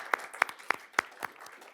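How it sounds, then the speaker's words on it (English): A handful of sharp, evenly spaced hand claps at a board meeting, five distinct claps about a quarter second apart from one or a few people, thin and fairly close rather than a full crowd. "I'd like to give a round of applause to Corey for all of his hard work"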